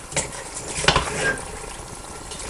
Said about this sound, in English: So just sizzle that for a short while just to cook the flour.